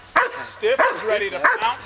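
A working dog barks three times in quick succession, close and loud, during agitation training, with a voice talking over the barking.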